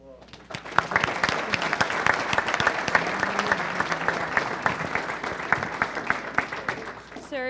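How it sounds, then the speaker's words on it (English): Sustained applause from an audience at a community health promotion council meeting, steady dense clapping throughout at moderate volume, with a room full of people clapping together and no voices standing out. "Give a round of applause."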